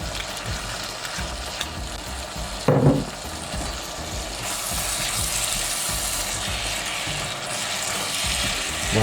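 Hot stir fry sizzling in a frying pan with sesame oil for egg foo yung, a steady loud frying hiss with clattering stirring and a sharp scrape near the start.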